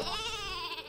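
Cartoonish sheep bleat from the sheep weapon in the video game Worms W.M.D, a single short wavering cry, fairly loud and close.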